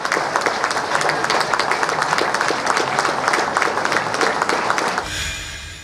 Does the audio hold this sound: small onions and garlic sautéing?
no